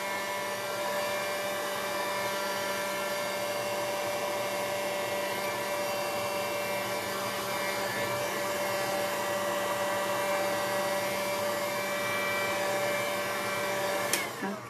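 A hot-air heat tool blows steadily to dry a fresh layer of white gesso on an altered MDF mixed media panel, a continuous loud whirring drone with a fixed motor whine that holds for nearly fifteen seconds before cutting off.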